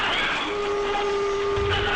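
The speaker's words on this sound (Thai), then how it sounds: "คลายรถไฟฟ้าที่กำลังวิ่งมาด้วยความเร็วสูงนะฮะ" Electric train arriving fast at a station, a loud steady rumble with a sustained high whine and screech of wheels on rails, no talk.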